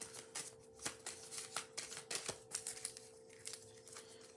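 A deck of cards is shuffled in quick repeated riffling bursts, crisp and close, with no talking over it.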